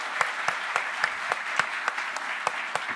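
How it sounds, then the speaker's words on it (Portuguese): Audience applause welcoming a guest speaker onto a conference stage, a steady wash of clapping from a seated crowd with individual claps standing out in a loose rhythm. "Salva de palmas para ele."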